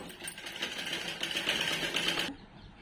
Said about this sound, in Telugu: ఇప్పుడు బ్యాక్ పాటు స్టార్ట్ చేద్దాం స్టిచ్చింగ్ అనేది